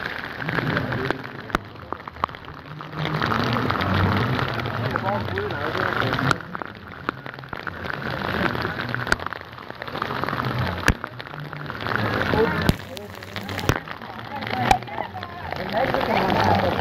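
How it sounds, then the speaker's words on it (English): Heavy rain pouring at the Magic Kingdom at Walt Disney World on a flooded day, a dense continuous hiss of drops with scattered sharper splashes, steady throughout while people talk over it. "This is a really rainy day with flooding up to ankle deep here at the Magic Kingdom."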